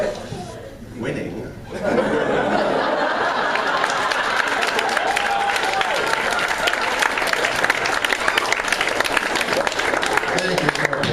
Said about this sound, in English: Thank you for applauding my appearance